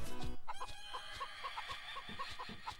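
Chickens clucking in the video game Mort the Chicken, a quiet series of short, evenly spaced clucks over a soft game backdrop, after a brief lower burst at the start.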